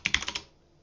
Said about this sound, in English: let's just open a terminal and type